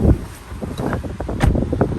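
Air conditioning in a 2015 Infiniti QX80 blowing hard, a close, airy rush of fan noise with light rustling flutters and small knocks inside the cabin.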